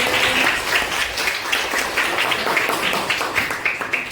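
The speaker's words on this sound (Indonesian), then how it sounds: "Ya, tepuk tangan buat Naden" A primary school class claps for a classmate after a presentation, a lively, uneven patter of small hands that rises and dips in bursts throughout.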